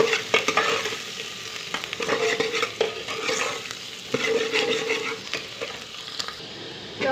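Onions frying and being stirred in a pan for tinda masala, a steady close sizzle with scraping spatula strokes and occasional clinks of metal cookware, no voices.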